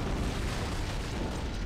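A loud, dense rumbling blast fills an interior aboard a ship in Halo: Combat Evolved, thought to be an antimatter charge set off by a boarding party, a sustained roaring burst with no break.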